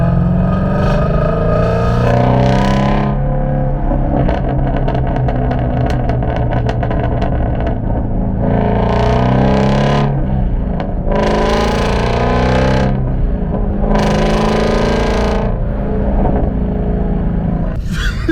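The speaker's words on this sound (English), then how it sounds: "let's open up those exhaust valves" A Shelby GT350's loud exhaust with valves open revving repeatedly, rising and falling through deep rumbling pulls and crackles, close and continuous.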